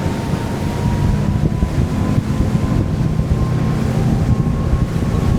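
A Fjord 39XL boat runs at full speed on its inboard motors, giving a loud, steady engine drone with rushing water and heavy wind buffeting the microphone, with no voices.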